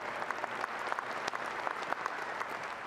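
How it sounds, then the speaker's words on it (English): Steady audience applause in a room during the introduction of a new WVU head coach, a dense patter of many hands throughout with no break. "just give a big round of applause"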